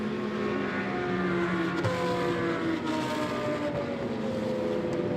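Porsche and KTM GT2 race cars lap a circuit during a European series race, their engines droning loudly and steadily with shifting pitch as they climb toward a turn.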